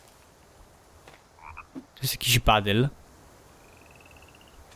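Frog croaking in the survival video game The Forest, a few brief faint croaks near a lake, with someone talking over them.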